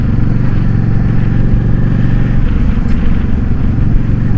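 A motorcycle fitted with a single-carb conversion, a K&N Chrome Top RC-0850 universal air filter and a re-jetted Mikuni carburetor idles and revs steadily up close, with its engine drone running continuously and a faint clatter and no talk.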